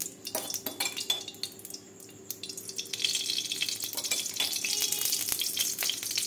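Bay leaf and dried chilli sizzle as tempering in mustard oil in a hot pan. The frying crackles lightly at first, then swells into a dense, steady sizzle, with occasional clinks of a utensil against the pan.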